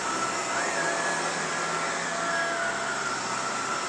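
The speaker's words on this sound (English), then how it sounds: "picking up all that dirty dust and sand I put down for the test" A Shark Rotator or Navigator powered lift-away vacuum runs continuously and loudly, sucking up dust and sand spread on a floor around a table, with a steady broadband roar and a faint whine.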